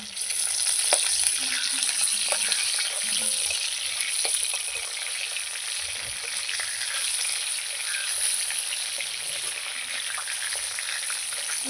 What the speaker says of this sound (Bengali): লাল লাল করে ভেজে নিয়েছি